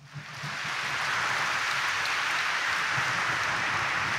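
A church congregation at Quiapo Church claps loudly together during a homily, building within half a second into a dense, sustained roar of hands that holds steady and loud throughout.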